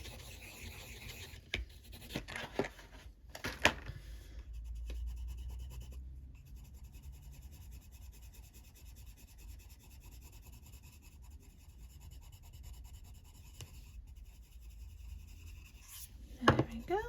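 Blunt white colouring pencil rubbing and scratching across a paper colouring page, a quiet continuous scraping with brief louder strokes, alone and close.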